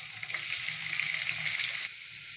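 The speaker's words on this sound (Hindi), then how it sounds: "थोड़ी देर के लिए इसको हम लोग छोड़ते हैं, ये फ्राई हो जाए।" Mutton liver and onions fry steadily in a pan, a dense continuous sizzle with faint stirring scrapes, close and uninterrupted, easing slightly near the end.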